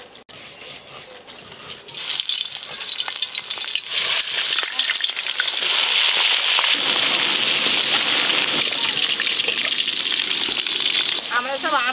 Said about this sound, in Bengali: আমাদের তেল গরম হয়ে গেছে, মাছগুলো এবার মা আর মেয়ে দুজনে মিলে মাছগুলো ভেজে নেবো।